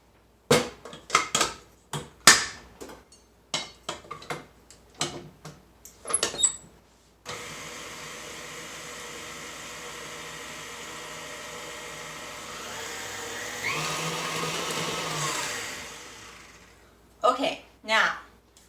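An electric mixer whirs steadily through lemon poppyseed muffin batter made from cake mix, rising in pitch near the end, with clicks and handling noises before and after.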